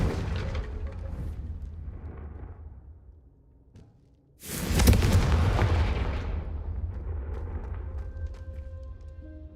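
An explosion from the Confringo fire spell in the video game Hogwarts Legacy, a sudden loud boom after a near-silent moment that rumbles on and slowly fades under a low ambient bed.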